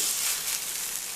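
Wild salmon patties fry in a pan with a continuous, bright crackling sizzle that stays steady and close throughout.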